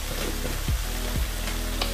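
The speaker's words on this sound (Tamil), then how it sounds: "காய் நல்லா சூப்பராக வதங்கிடுச்சு" Vegetables sautéing in a pan for a Tamil-style dry fish curry, a steady soft sizzle with a few low knocks of stirring, no talk.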